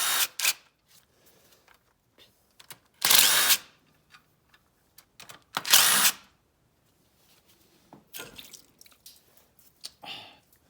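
A power tool removes coolant return bolts on a fourth-generation Cummins engine, giving two loud spinning bursts and a few shorter ones, separated by quiet clinks and handling noises.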